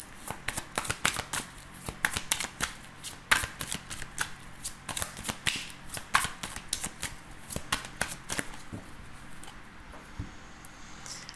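Tarot cards being shuffled by hand, a steady run of crisp riffling flutters and soft slaps that continues without pause, close and fairly quiet, with no voice over it.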